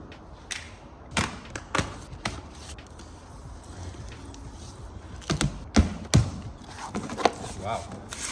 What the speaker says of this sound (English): Let's get the package open and see these beautiful things.